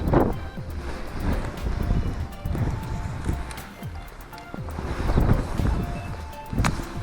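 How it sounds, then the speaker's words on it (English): Gusty wind buffets the microphone outdoors at a fishing venue by the water, rising and falling in loud rushes throughout, with faint background sounds beneath it. "This wind's doing my head in."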